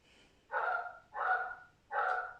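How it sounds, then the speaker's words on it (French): A dog barks three times in a quiet room, evenly spaced, moderately loud and slightly distant, with no talking over it. "j'entends un chien qui aboie"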